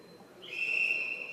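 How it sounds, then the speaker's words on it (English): Referee's whistle signalling the last end of a singles game at an indoor bowls championship, a steady high tone that rises out of quiet hall ambience and holds for most of a second, moderately distant. "it's definitely the last end now because the whistle's just gone."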